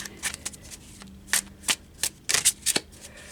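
Tarot cards are shuffled close by in quick riffling bursts, a few short flurries separated by brief pauses.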